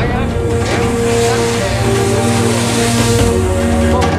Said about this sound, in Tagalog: Kahit maklakas yung mga alon.